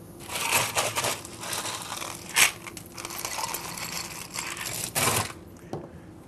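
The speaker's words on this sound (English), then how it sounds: "what we want to do is we want to add our ice" Ice cubes are dropped and clatter into a glass for a wildberry mojito, giving several sharp crunching, rattling bursts with uneven spacing, loudest near the middle and toward the end.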